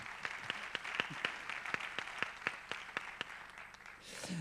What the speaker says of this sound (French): je propose qu'on l'applaudisse aussi